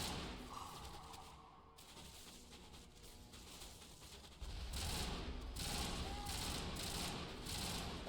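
Gunfire in Mass Effect 1 Legendary Edition, a rough burst of rapid shots and thumps that comes in loudly after a quieter stretch of game noise, with a voice talking faintly.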